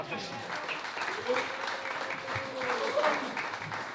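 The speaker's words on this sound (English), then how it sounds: "I want a big round of applause to the Blue Sharks." An audience at a book presentation applauds the Blue Sharks with a sustained wash of clapping at moderate loudness, while a voice talks over it.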